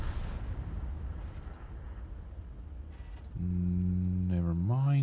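A self-propelled artillery gun in the tank battle game World of Tanks fires once, a deep booming blast that decays into rumble, followed by a rising droning engine-like tone.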